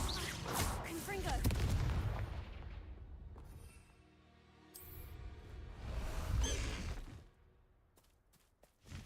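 Confringo fire spell blasts in Hogwarts Legacy, two heavy rumbling booms with whooshing bursts a few seconds apart, fading between them, followed by sharp clicks near the end.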